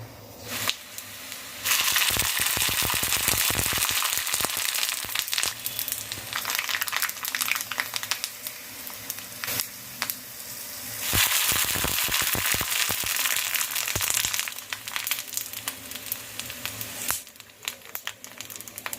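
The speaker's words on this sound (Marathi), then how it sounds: "आता ह्या कुरडया आपल्याला तळून बघायच्या आहेत गॅसवर मी कढईमध्ये तेल तापत ठेवते" Dried wheat kurdai crackle and sizzle steadily in hot oil in a kadhai on a gas stove. The frying is loud and dense, swelling and easing as pieces go in, with no talk.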